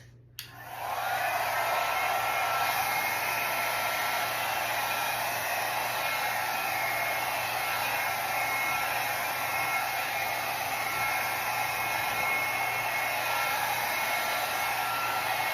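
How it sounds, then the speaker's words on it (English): A hair dryer switches on and runs steadily, a constant airy whir with a low motor hum, unchanging throughout. "Hair dryer is in low mode speed."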